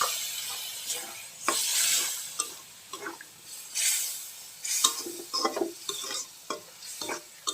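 Spices with turmeric and a splash of water stirred and frying in a wok, with bursts of sizzling and scraping stirs coming in uneven strokes, close and moderately loud, with no talking.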